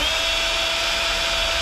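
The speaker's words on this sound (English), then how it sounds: "I'm gonna make some pilot holes." Power drill boring pilot holes for screws in a commercial bar wine cooler, a steady high-pitched whirring drone heard close up and alone for a short burst.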